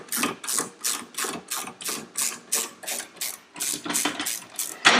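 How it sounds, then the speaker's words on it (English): A ratchet wrench cranked in reverse to lower a Let's Roll motorcycle lift under a cruiser, giving about fourteen rhythmic bursts of clicking at a steady pace, close and fairly loud. "Reverse the direction of your ratchet. Lower the lift a couple turns."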